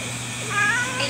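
A cat trapped in a basket gives a brief, fairly close meow over low background hum, with no talking during the call.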